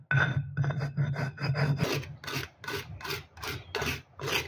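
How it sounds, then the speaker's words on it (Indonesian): Spices for marinating beef are ground by hand, a rough rhythmic scraping and rasping, close and fairly loud, with about eight strokes in steady succession after a brief grinding stretch. "Haluskan semua bumbu."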